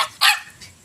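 A native aspin puppy at home late at night gives two short, sharp yips, close and fairly loud, with a fainter third yelp trailing after.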